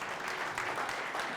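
A church congregation claps together during a Hindi sermon, a dense, even wash of applause that stays steady and moderately loud without a break.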